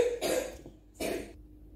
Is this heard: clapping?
no